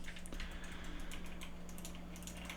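Clicky button presses on a Turtle Beach Stealth Ultra controller give a quick run of light, close taps over a steady low hum.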